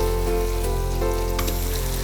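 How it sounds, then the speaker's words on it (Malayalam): Onions, shallots, green chillies, whole spices and bay leaf sautéing together in a pan, a continuous soft sizzle with a faint tonal hum in the background. "അപ്പോൾ എല്ലാം കൂടി കിടന്നിട്ട് നല്ലതായിട്ടൊന്ന് വഴണ്ട് വരുന്നു."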